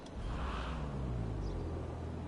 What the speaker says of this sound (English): Alright, engine on.